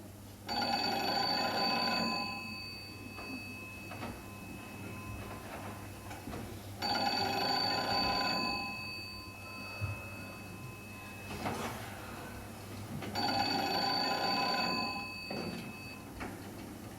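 An old-style telephone rings indoors in three long, even bursts separated by pauses, loud and close, with no voices over it.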